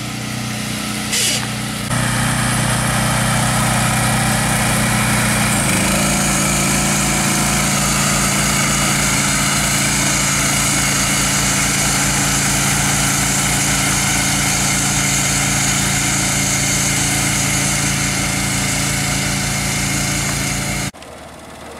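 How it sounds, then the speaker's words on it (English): A Dakota top dresser spreads sand on golf greens during aerification, its small engine running loudly and steadily at close range with a rhythmic low chug for about twenty seconds before cutting off. "our Dakota top dresser. He's going to spread some sand."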